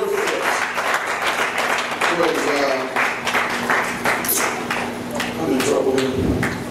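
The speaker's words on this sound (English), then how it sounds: "Let's clap on the Lord one more time before we're seated." A church congregation gives a sustained round of clapping, a dense, continuous patter of many hands heard close, with a voice talking over the applause.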